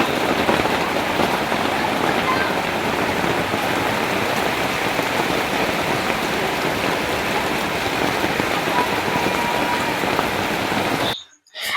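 Heavy rain pours down in a dense, even hiss that holds steady for several seconds before cutting off abruptly at the end.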